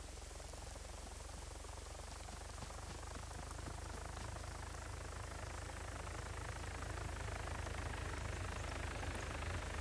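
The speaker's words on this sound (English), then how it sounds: "That's the GM helicopter." A game-master helicopter in a video game, a steady dense rotor and engine roar with a broadband rain-like wash, constant and fairly loud throughout with no talking.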